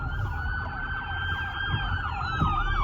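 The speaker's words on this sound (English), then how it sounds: "So this should be the ambulance with a police escort" An ambulance siren wails loudly alongside a police escort's siren as the vehicles pass close by on a city street while a snow storm arrives, with steady road rumble underneath and no talk.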